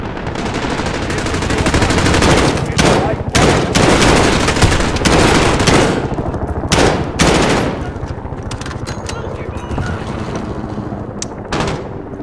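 Dense gunfire from Call of Duty: Modern Warfare (2019) campaign mode roars through an indoor fight, with loud continuous automatic bursts and sharp shots layered over one another, and no voices.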